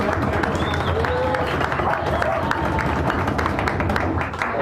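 A small audience at a poetry reading in a San Francisco cafe claps steadily for a new reader, close and fairly loud, with voices mixed into the clapping throughout.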